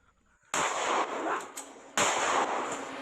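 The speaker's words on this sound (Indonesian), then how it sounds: "Tembakan peringatan berulang kali dilepaskan polisi saat menggerebek arena judi sabung ayam" Two sharp, loud police warning shots fired into the air during a raid on a cockfighting arena in Sinjai, Indonesia, about a second and a half apart, each followed by a long echoing rumble.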